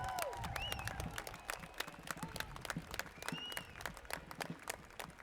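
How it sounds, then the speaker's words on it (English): Outdoor crowd applause with scattered cheers for the Torrance Police Department closing a 61st Annual Armed Forces Day Parade, steady dense clapping held at moderate level with a few whistles rising over it. "a big round of applause for the Torrance Police Department for putting on the parade"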